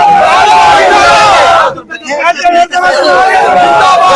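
A large crowd at an outdoor political rally roars and shouts together, a loud sustained mass of voices that briefly dips, then swells back into cheering.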